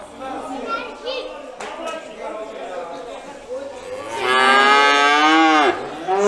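A calf moos loudly in a long, drawn-out call near the end, after a stretch of people talking in the background at a livestock market in Antalya.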